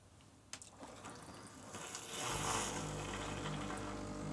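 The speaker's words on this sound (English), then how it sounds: "You can hear the bubbling of the water and you see the steam" A faint click and clatter, then a rising hiss and gurgle of water bubbling and steaming in a Breville Bambino Plus espresso machine with a steady low rumble, continuing loud to the end.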